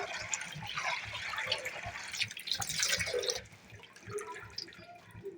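Jute leaves are washed by hand in water, giving soft splashing, dripping and trickling close by, with no voices.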